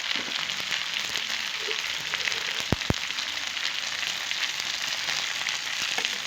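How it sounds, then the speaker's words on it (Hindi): Okra frying in a pan for a hotel-style dry bhindi and onion sabzi gives a steady, dense sizzle that holds evenly throughout, broken by two sharp clicks near the middle. "जब तक गोल्डन नहीं हो जाती हमारी भिंडी तब तक हम फ्राई करेंगे इसको"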